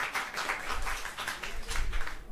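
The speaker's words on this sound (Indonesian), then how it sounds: "Tepuk tangan dulu dong buat kita semuanya" An audience at a stand-up comedy show applauds in sustained, moderately loud clapping with a busy, uneven texture that carries through to the end.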